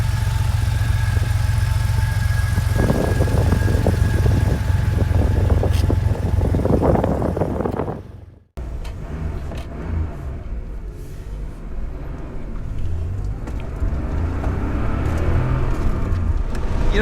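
A 1983 Porsche 911 SC engine runs steadily at a low idle with a loud, close rumble, cuts off abruptly partway through, and then the sound turns quieter and more muffled.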